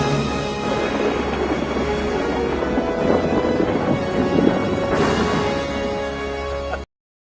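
Rolling thunder and steady rain in a stormy prison escape scene from The Shawshank Redemption, a continuous loud rumble with a sharper crack near the end before it cuts off.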